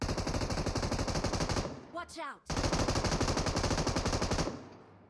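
Rapid automatic gunfire in the mobile battle royale game PUBG Mobile, a loud sustained burst that breaks off briefly around a rising whoosh, then resumes at full volume and fades near the end.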